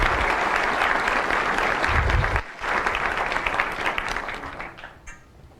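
Sustained audience applause welcomes a speaker to the podium at a College of Medicine white coat ceremony, loud and dense for about two seconds, briefly dipping, then continuing and tapering off toward the end.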